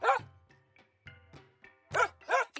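A dog in the video game Thirsty Suitors barks in clear, spaced single yaps, a few loud and close with softer ones between, separated by short silences.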